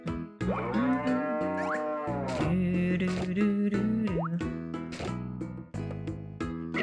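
Cow mooing in the farming game Harvest Moon: Tale of Two Towns, a loud, drawn-out synthesized moo with springy musical tones and game music, filling the foreground.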